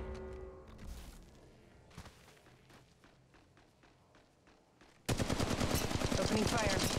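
Gunfire in Apex Legends Mobile, starting with scattered quiet shots and footsteps, then switching to a loud, rapid burst of automatic fire near the end.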